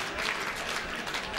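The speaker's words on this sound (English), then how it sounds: "Quality three and a ripple from an appreciative crowd." A brief, soft ripple of applause from a darts crowd at the Players Championship, quiet and even across the whole short moment, with no talk over it.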